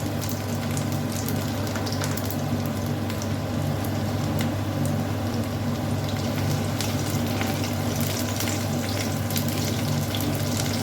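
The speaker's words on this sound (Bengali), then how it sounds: "এখন আমি তেলের মধ্যে দিয়ে দেব আদা এবং রসুনের যে জুলিয়ান করে কেটে রেখেছিলাম সেই আদা রসুন।" Julienned ginger and garlic hit hot oil in a karahi for chicken, producing a steady, loud, unbroken sizzling hiss with a low hum underneath and no talking.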